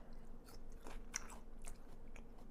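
Someone chews raw jicama up close in a kitchen, with soft irregular bites and crunches scattered over a few seconds at low volume and no talking.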